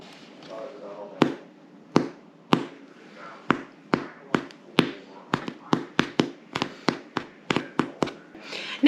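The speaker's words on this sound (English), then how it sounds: "But I'll show you what I mean about the thump." Knuckles thump the crust of a freshly baked homemade bread loaf, a string of about fifteen sharp, hollow knocks that speed up into a quick irregular run, close and loud with some faint background noise.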